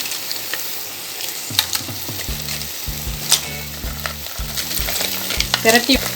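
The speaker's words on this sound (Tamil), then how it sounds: "நம்ம இந்த ஸ்டேஜில் நண்டை போட்டுடலாம்." Crab added to a Chettinad masala in a hot pan, frying with a steady broadband sizzle; scraping stir strokes repeat from about midway on, with a few sharper clinks near the end and no talk.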